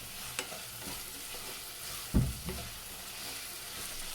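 Onions sautéing in a hot pan for a spicy chicken kozhukattai: a steady, close frying hiss with a couple of soft stirring knocks partway through, no talk.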